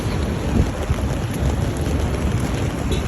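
Heavy rain pours steadily in a dense, continuous roar, with low rumbling beneath and no voices.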